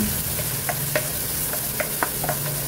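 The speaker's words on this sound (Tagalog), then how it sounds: "gisahin lang natin ito" Chopped onion and garlic sautéing in a little oil in a frying pan: a constant loud sizzle with a low hum beneath and a few sharp scrapes of a utensil stirring.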